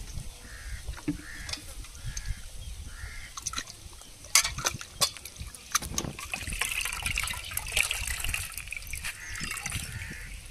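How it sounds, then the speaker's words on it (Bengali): Cold water trickles and splashes over chhana, fresh milk curds made from homemade milk and soured with lemon, as they are rinsed; irregular watery dribbles and small splashes, close by, with a few sharper knocks mid-way and no talk. "এবার ছানায় ঠান্ডা জল দিয়ে ধুয়ে নেব।"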